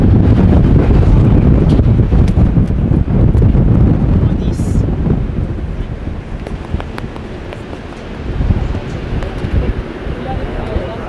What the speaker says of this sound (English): you can literally hear the sound of the wind gushing